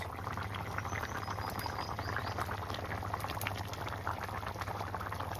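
A curry of large silver carp fish simmers in a pot, giving a continuous bubbling boil with soft pops and gurgles, moderately close and steady throughout, with no talk.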